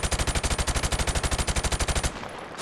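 Rapid machine gun fire in the Modern Warfare video game, a loud, evenly spaced burst of about two dozen shots that stops abruptly near the end.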